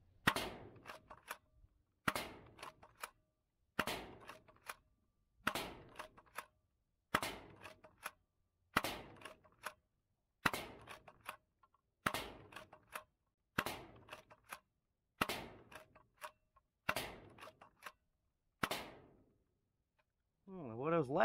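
A Villainator dart blaster fires foam waffle darts through a chronograph, about a dozen sharp cracking shots spaced roughly one to two seconds apart, each followed by brief mechanical rattle, with a voice near the end.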